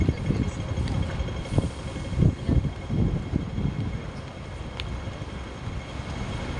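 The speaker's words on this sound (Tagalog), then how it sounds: "Lakas po ng hangin." Strong wind buffets and rumbles in low gusts against a constant roar outdoors near a hotel in Hong Kong, with occasional faint clicks and rattles in the background.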